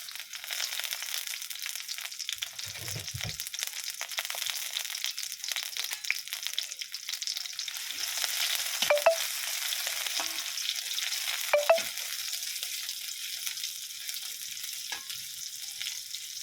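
Stir-frying vegetables in a pan, a steady sizzle with scraping and crackling from the spatula and a couple of sharp clinks of metal against the pan.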